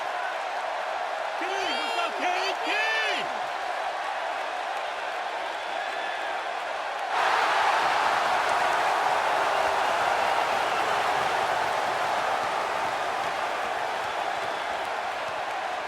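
Arena crowd in WWE 2K16 cheering and applauding, a steady loud roar that swells in halfway through and holds, after a stretch of quieter ambience with a voice speaking.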